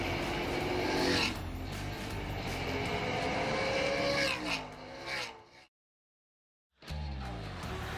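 Stock cars race at Dominion Raceway in a Super Cup Stock Car Series event, engines roaring loudly as they pass, dipping to a brief silence before the roar returns.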